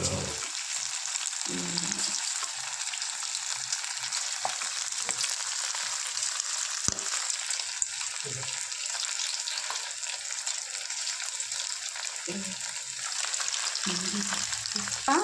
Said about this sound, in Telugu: మంచిగా ఈ పీసెస్ అన్నిటిని కూడా డీప్ ఫ్రై చేసుకోవాలండి.